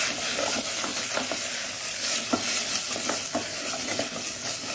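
Ingredients for Mangalore-style nochu sizzle continuously in hot oil, with turmeric powder added and occasional stirring clicks and scrapes, close and even in level.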